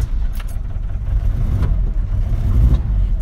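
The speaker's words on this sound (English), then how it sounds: "now we can start the vehicle" A 1990s Mercedes-Benz T1 308D diesel van engine runs and revs close by, a heavy low rumble that swells and builds toward the end, with no talking.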